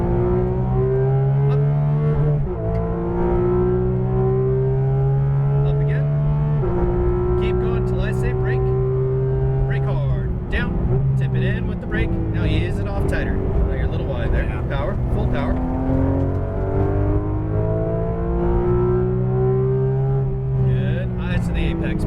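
A Porsche GT2 RS on a race track, heard from inside as the engine surges loudly through repeated rising pulls and gear changes, steady and close, with a driving coach talking over it.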